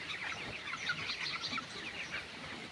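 Chickens cluck softly and continuously in a poultry shed, a busy murmur of several birds close by with no talking.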